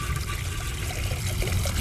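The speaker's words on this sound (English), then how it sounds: "it's moving water around my pond" A Coodia budget pond pump sends water trickling steadily back into a garden pond, a continuous close splashing wash with no breaks and no voices.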